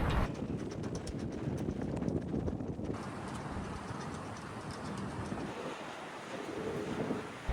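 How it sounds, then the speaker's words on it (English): Strong wind in Belgrade, Serbia buffets and roars across the microphone throughout, a steady low rumble with gusty surges and no voices. "So windy, huh?"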